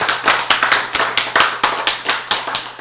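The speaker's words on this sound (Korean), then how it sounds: "박수!" Clapping in a church lecture hall: a brisk, even run of sharp, loud claps, roughly four per second, close and distinct with no voices over them.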